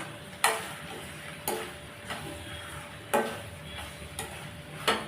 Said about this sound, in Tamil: இப்போ இதை நல்லா கலந்து விட்றலாம்